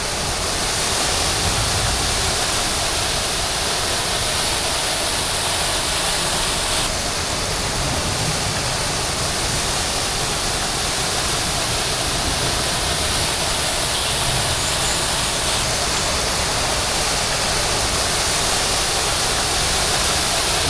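A waterfall roars as a dense, even wash of falling water, loud and close, with no voices and no breaks for the whole stretch.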